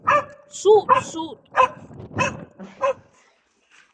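A dog gives a quick series of short, close barks and whiny yips over a few seconds, with a person speaking briefly among them.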